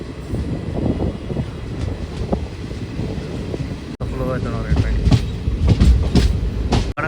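A DEMU passenger train running between Tirupati and Puducherry, with a continuous rumbling roll and rhythmic clatter of wheels on rails heard from on board, under someone talking.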